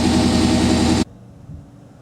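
A 1991 V2500 engine, freshly fitted with an oil cooler, runs loud and steady up close for about a second, then cuts abruptly to a quiet background.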